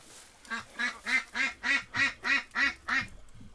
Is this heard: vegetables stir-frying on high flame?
no